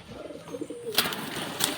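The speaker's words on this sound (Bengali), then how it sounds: "এই যে পুরো বন্ধ লেজের পায়রা আছে" Pigeons of a full-tailed breed cooing at a home loft in Ranaghat, soft low murmurs that swell and fade over a couple of seconds, with a few brighter bursts of wing or body movement nearby.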